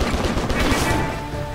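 Gunfire in the video game Stranglehold rings out as a dense, loud burst of rapid shots that fades slightly toward the end.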